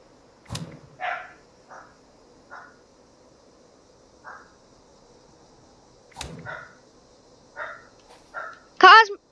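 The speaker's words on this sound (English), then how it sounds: "my dog's barking" A dog barks in short bursts, several sharp barks spaced irregularly with quiet gaps, fairly close, plus a couple of sharp clicks, during Fallout 76 gameplay.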